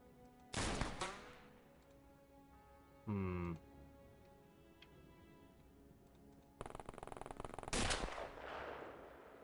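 Gunfire in The Xcom Files video game: loud bursts of shots, one near the start, a short burst around three seconds, and a longer rattling volley late in the clip, over a low background hum.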